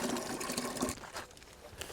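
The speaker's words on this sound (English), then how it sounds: "I'll top it up to 10 litres with the water" Water is poured into a container to dilute homemade nettle fertilizer up to 10 litres, giving a close, fairly quiet splashing and gurgling flow that eases off after about a second.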